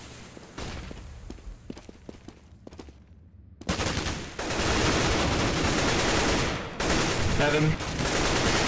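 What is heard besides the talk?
AK rifle gunfire in the video game CS:GO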